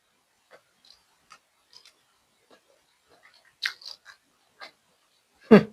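Someone biting and chewing spicy Korean instant noodles with blanched vegetables, with soft sparse crunches and mouth clicks at irregular intervals and a louder bite at the end, otherwise near silence.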